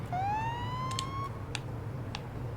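A police car siren in the Police Simulator driving game sounds once, a short rising wail that holds steady and then cuts off, followed by a few brief clicks against a low engine hum.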